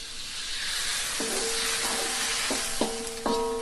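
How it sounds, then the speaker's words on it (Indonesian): Salted fish sizzling in a hot frying pan as a little water is added, giving a steady hiss with bursts of sputtering and tonal squeals from steam escaping near the pan. "kita masukkan ikan tadi yang sudah kita beri garam, dan kita tambahkan sedikit air"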